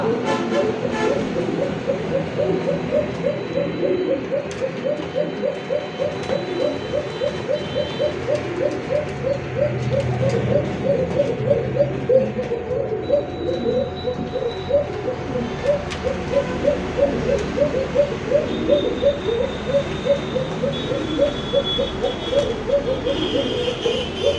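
Fancy pigeons, such as Bombay satin and racer breeds, coo steadily in a dense overlapping chorus of soft rhythmic calls throughout, with a low background hum and no talking.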